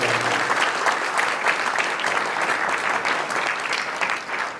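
A church congregation breaks into strong, sustained applause at a priest's first holy Mass of thanksgiving, dense clapping filling the hall evenly from start to finish with no talk over it.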